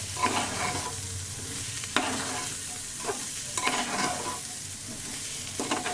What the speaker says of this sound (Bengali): চাউলগুলো ভালো করে ভেজে নেব